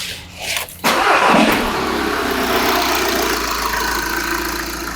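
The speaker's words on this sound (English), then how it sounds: "We'll now introduce EGR operation whilst the engine's running." A car engine cranks and starts during an EGR condition test, then settles into a steady, loud idle that hums on alone to the end.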